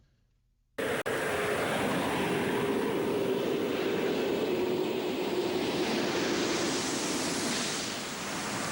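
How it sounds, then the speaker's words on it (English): Space Shuttle Discovery rolling out on the runway at Kennedy Space Center after landing, a loud, steady broadband roar of rushing air and engine-like noise that starts abruptly and holds for several seconds before easing slightly. "now we roll safely down the runway at Kennedy Space Center"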